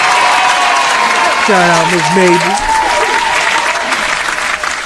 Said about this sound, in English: Let me give her a little hand clap